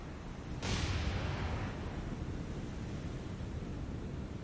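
A warship's big guns firing high-explosive shells in the naval video game War on the Sea, heard as a single deep boom that rolls into a long, fading rumble over steady wind and sea noise.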